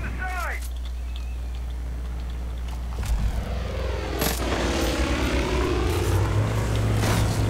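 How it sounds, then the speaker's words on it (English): Propeller aircraft engine drone in an online combat video game, a steady low rumble that swells with crackling gunfire and explosions, with talk over it. "you're getting shot by a plane"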